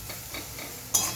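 Fig mash being stirred in a pan while its liquid cooks off, giving soft scraping strokes with a light sizzle, close by, ending in a brief sharper clink of the utensil.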